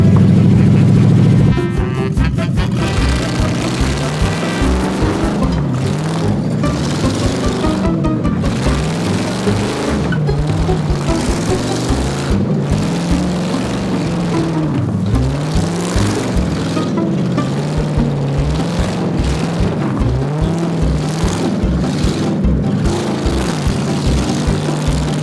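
A cheap drift car on bald tires drives and slides along a road in Mexico, its engine droning loud and continuous with wavering pitch as it revs and eases, heard close without any talk.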